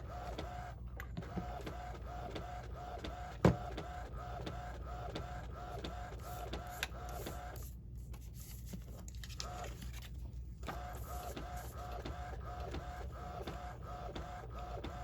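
An Epson printer prints a photo onto glossy paper, a steady mechanical whirring and rattling of the print head and feed running continuously throughout, with one sharp clack early on.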